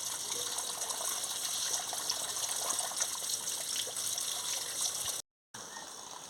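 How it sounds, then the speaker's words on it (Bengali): Cut potatoes washed under running water, a steady close gush and trickle of tap water with faint clatter of the pieces being rubbed, briefly cutting out near the end. "বন্ধুরা, আমি এবারে কেটে নিয়েছি, এদের ধুয়ে নিচ্ছি। দেখুন, ধুয়ে নিচ্ছি ভালো করে।"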